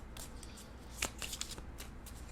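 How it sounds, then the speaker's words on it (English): Tarot cards are riffled and shuffled by hand in a quiet room, a soft continuous flutter of card edges with a few sharper snaps in the middle, close and alone without talk. "I'll give the deck a good shuffle here."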